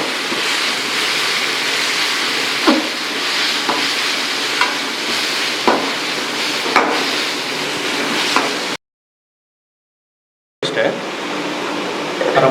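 Ginger garlic paste fries and is stirred in a pan after onions are browned, a continuous close sizzle with periodic scraping stirs, a brief gap of silence, then the sizzling resumes.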